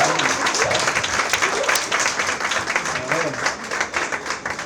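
Applause from an audience at a talk session, a dense, steady wash of many hands clapping close by that carries on throughout, with a few sharper individual claps.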